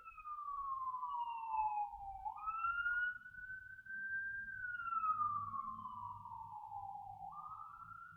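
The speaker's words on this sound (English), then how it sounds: "And I've got an ambulance going by?" An ambulance siren passes by outside in a steady wailing sweep, rising and falling in long, loud glides over low background rumble, with no talking.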